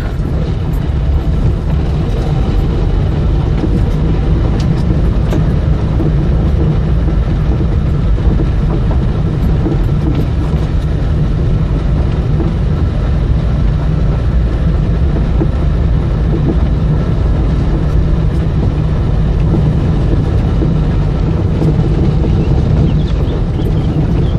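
Fiat 127S with a 903cc engine heard from inside while driving, a steady, loud engine drone mixed with road rumble that holds constant throughout, with no talking.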